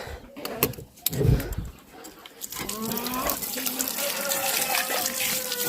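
Water runs steadily from a tap into a bowl, a continuous hiss with some clattering near the start.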